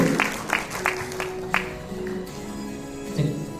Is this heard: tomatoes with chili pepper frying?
no